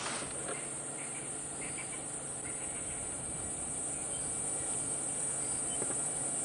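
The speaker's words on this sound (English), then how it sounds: "my favourite sound of the summer, the cicada" Cicadas calling at sunset on a summer safari drive, a dense continuous high-pitched buzzing drone that holds steady throughout, loud and close, with a faint low rumble and occasional distant bird notes beneath.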